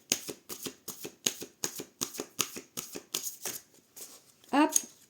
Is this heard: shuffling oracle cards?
yes